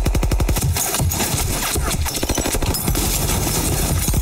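Rapid Tommy gun bursts in the crime game Mafia Definitive Edition, loud and close, with sharp repeated cracks at the start and dense continuous gunfire carrying through the rest.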